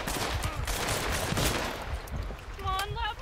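Video game gunfire crackles in rapid bursts of close shots, loud and sharp, with a break before a few more shots near the end.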